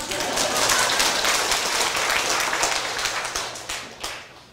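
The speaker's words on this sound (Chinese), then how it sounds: "你们拍拍手呀、啊。" An audience at a political lecture session in Taiwan claps together in a steady burst of applause lasting a few seconds, moderately loud and thinning slightly toward the end.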